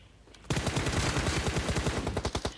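Sustained burst of M249 machine gun fire in the PUBG Mobile video game, rapid evenly spaced rounds starting abruptly and continuing loud and close for about two seconds.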